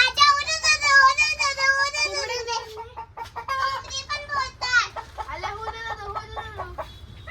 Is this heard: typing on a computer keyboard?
no